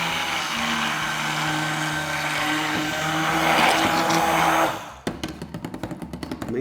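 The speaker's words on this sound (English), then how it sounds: "so I'm gonna use an immersion blender just so that this is similar" An immersion blender whirs loudly and steadily through a cream mixture for a three-ingredient recipe, then drops in pitch and slows into a rhythmic chugging pulse as the mixture thickens.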